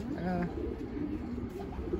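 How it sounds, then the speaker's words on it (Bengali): Pigeons coo softly in a short burst of low, rounded calls, with people talking nearby. "ওখানে কবুতর ডাকে সব।"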